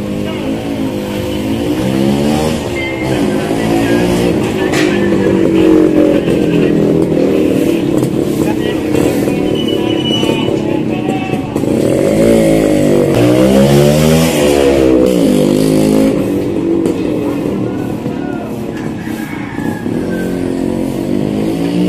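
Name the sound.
vehicle engine starting and revving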